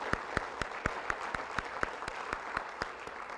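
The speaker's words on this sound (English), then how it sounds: "If we could have one more round of applause for all of our students." A board of education meeting audience applauds its students, with steady rhythmic clapping from a modest crowd sustained throughout at moderate distance.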